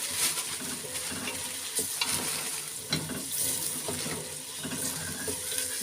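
Onions sauté gently in a pan before garlic goes in, a steady sizzle with intermittent scraping strokes of a utensil and occasional louder clatters, with no voices.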